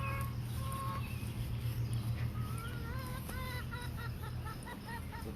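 Chickens on an urban farm give repeated short clucks and calls, growing busier toward the end, set against a steady low hum of background noise.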